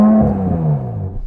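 An Audi S5 V6 engine revs up against its soft limiter, a brief, loud, buzzing note whose pitch sags as the revs drop back.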